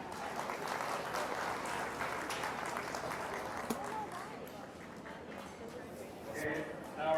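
Scattered crowd clapping at a beef cattle show after a class of prospect heifer calves, faint and distant in a large arena, under a steady murmur of background voices and some shuffling.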